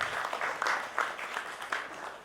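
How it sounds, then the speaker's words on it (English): An audience at a procurement leaders summit applauds, a dense patter of clapping in a hall, moderately loud and steady throughout. "Let's give our gentlemen a huge round of applause"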